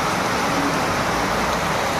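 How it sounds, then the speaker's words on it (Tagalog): Heavy rain during a typhoon, a dense, steady roar of broadband hiss that fills the whole stretch without a break and with no voices. "Grabe guys ang ulan ngayon"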